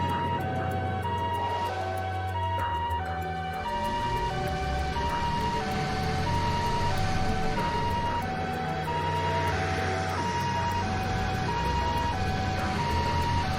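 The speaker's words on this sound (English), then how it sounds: "Were those ambulances just now?" Wailing ambulance sirens in the Trails to Azure video game, a repeating two-tone electronic wail cycling steadily over a low rumbling background with game music, loud and continuous throughout.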